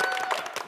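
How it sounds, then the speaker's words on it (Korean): Brief burst of audience clapping after a student's talk and worship song at a Christian school event, dense and fairly loud with a faint tonal line threading through. "다시 한번 여러분 큰 박수 부탁드립니다"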